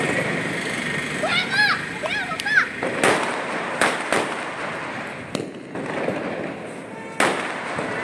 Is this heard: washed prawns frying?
no